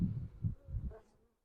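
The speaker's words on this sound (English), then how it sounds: "There's still a few bees in the box." Bees buzz in a five-frame nuc box during a hive install, a low, close drone that swells in several pulses over the short moment before fading out.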